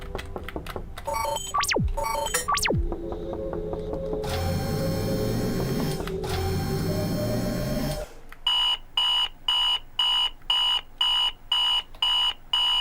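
An alarm clock aboard a ship in the video game Ayumi goes off: warbling electronic tones and a low buzzing drone give way to a loud, steady pattern of repeated beeps pulsing at a regular rhythm.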